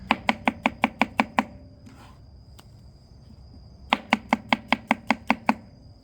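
A knife slices washed vegetables on a cutting board for beef and broccoli, giving two quick rhythmic runs of about eight crisp, close chops each, separated by a short pause.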